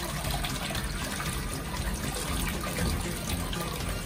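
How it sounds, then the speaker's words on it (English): A Japanese high-tech toilet flushing, a steady, dense rush of water that stays loud and even throughout with no talk over it. "before leaving here, we have to flush, right?"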